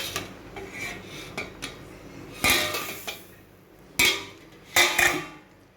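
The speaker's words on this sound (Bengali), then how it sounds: "ঢাকনাটা খুলছি।" A metal lid lifted off a cooking pot of simmering bottle gourd greens, with several sharp clanks and clinks of metal against metal amid quieter handling sounds.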